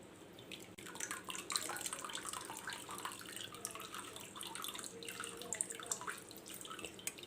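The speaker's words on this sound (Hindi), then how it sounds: "टैप वाटर डालकर, ताज़ा पानी डालकर इसको मैं थोड़ा सा मिक्स करूँगी" Fresh tap water running into a bowl of chenna curd for homemade rasgulla, a soft, continuous trickle and splashing with scattered drips, quiet and close, no talk.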